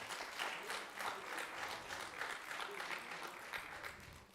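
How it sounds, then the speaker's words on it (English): Audience at a devotional gathering applauding a speaker, a steady, dense wash of clapping from many hands that holds evenly before easing slightly at the end. "A big round of applause for His Grace, Shri Govind Prabhu."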